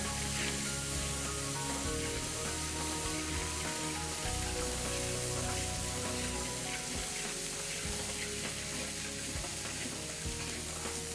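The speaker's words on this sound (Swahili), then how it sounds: "Vitunguu vyetu swaumu pamoja na tangawizi vitaiva kwa muda mfupi." Garlic and ginger fry in a hot pan with a steady, dense sizzle and crackle that runs without a break, stirred now and then. No one speaks.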